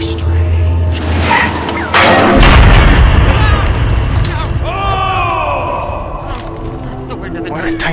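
A shotgun firing in a pirate-themed video game, a heavy booming blast landing amid busy game sound and people talking over it.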